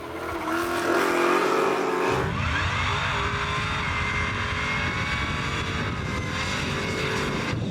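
Supercharged 5.7 LS V8 muscle car with a Harrop supercharger and turbo 400 transmission, running on E85 at a runway drag event, roars loudly as it accelerates hard, the engine tone rising and sustained, with whine on top.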